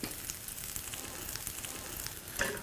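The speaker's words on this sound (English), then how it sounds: "here we are with our Brussels sprouts in the pan and they're starting to get brown" Brussels sprouts fry in a pan, turning golden brown, giving a steady, fairly quiet crackling sizzle with small pops throughout and no one speaking.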